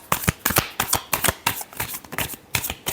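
Tarot cards being shuffled close by, with a quick series of sharp riffling slaps and snaps in an uneven rhythm, loud and alone.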